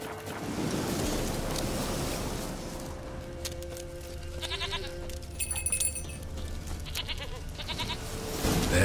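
A goat in The Witcher 3 bleats a few times over a steady wash of ocean surf and wind, the calls moderately close but partly buried in the ambient game soundscape.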